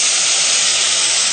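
Splash of white wine hitting toasted rice in a hot pan for risotto, a loud, steady close-up sizzle with a bright hiss throughout.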